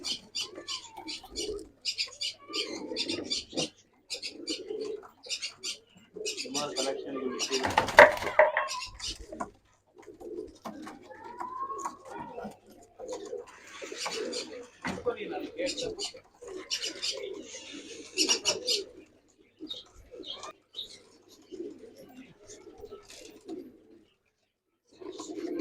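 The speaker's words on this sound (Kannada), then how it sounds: "ಎಲ್ಲ ಒಳ್ಳೆ ಕ್ವಾಲಿಟಿ ಬರ್ಡ್ಸ್, ಎಲ್ಲ ನಾವು ಹಳೆ ಅಕ್ಕಿಗಳೇ ಇವು" Pigeons in a loft cooing repeatedly in soft, throaty bursts, close and layered over one another, with occasional wing flutters and someone speaking at times.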